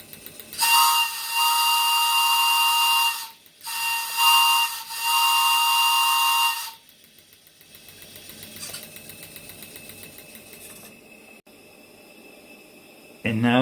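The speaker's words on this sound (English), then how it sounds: "Then we listen to the whistle." A coal-fired LGB live steam Shay locomotive, a two-truck garden-scale model, sounds its steam whistle in two loud, steady shrill blasts separated by a brief gap, followed by quieter hissing steam and mechanical clatter.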